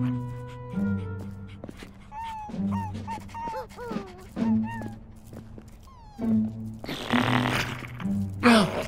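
Dogs barking, yipping and whimpering in Minecraft Story Mode, a string of short barks and whines in bursts over a low game soundtrack, with a louder rushing burst near the end.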